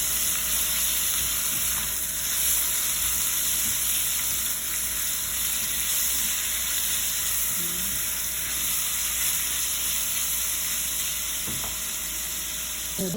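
Caldereta meat seasoned with black pepper sizzles and fries steadily in a pan, a continuous crackling hiss with a faint hum underneath and no talking.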